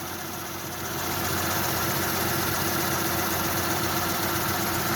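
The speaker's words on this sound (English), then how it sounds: "Okay, with the motor running," A 2008 Lincoln MKZ luxury sedan engine idling close up, a steady, even hum and rumble with faint vibration and no talk.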